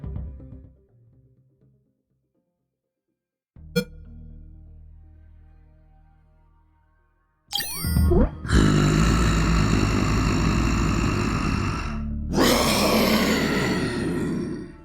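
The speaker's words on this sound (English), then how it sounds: "Damn T-Rexes." A T-Rex in the video game UnMetal roars loudly in two long, rough, broadband bursts after a sharp hit and a rising screech, with quiet low music before them.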